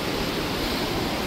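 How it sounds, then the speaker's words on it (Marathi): A river on the Kedarnath trek rushes in a dense, unbroken roar, loud and close, with no voices over the steady broadband flow. "नदीचा व्ह्यू घेऊ आपण."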